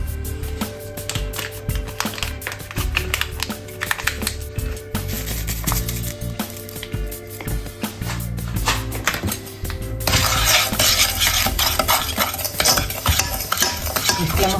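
Milk and cake ingredients are stirred together in a bowl, with a busy run of scraping, clinking utensil strokes that grows brighter and hissier in the second half, close and continuous with no voices.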